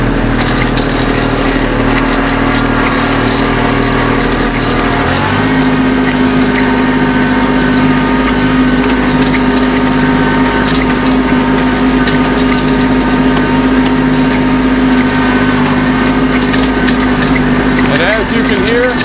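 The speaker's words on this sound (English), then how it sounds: "You can hear those ROPS are rattling" Rollover protection structure rattling on a Kubota B2650 tractor driven over humps in medium range at about 2,000 RPM, a steady engine drone with loose metallic clatter running throughout, close and loud, with a voice talking over it.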